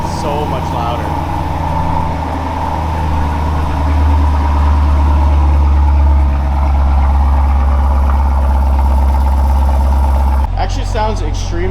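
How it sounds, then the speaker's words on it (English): A car with a Valvetronic Designs exhaust idles with its valves open after a remote start, giving a steady deep rumble up close, with people talking over it and a brief shift near the end. "we're gonna be doing our first remote start here with the valves open"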